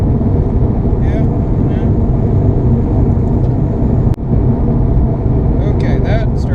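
A car engine, lean burn and boosted to 6 psi, revs under load during live tuning with mild detonation. The drone is loud and steady, with a brief dip midway and faint voices talking over it.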